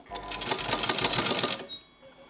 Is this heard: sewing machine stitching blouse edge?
yes